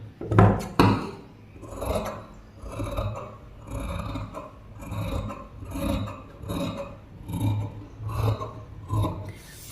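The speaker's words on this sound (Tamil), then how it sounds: "இப்போ இதை நம்ம கட் பண்ணிக்கலாம்" Scissors cut through blouse fabric for a 38-inch straight-cut blouse, making close, rhythmic rasping snips that repeat at an even pace with no one talking.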